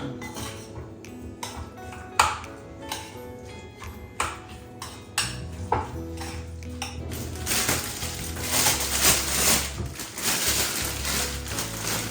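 A spoon stirs and clinks against a metal pan as food seasoned with black pepper is mixed over heat, scattered sharp taps and scrapes followed by a louder steady sizzle, close up without talk.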